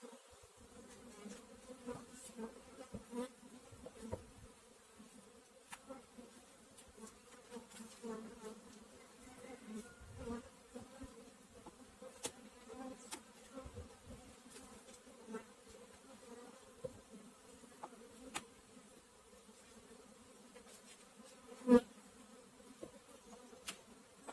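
Honey bees buzz steadily around hive frames from a colony being prepared for winter, a low continuous hum with occasional louder passes of individual bees close by, no voices.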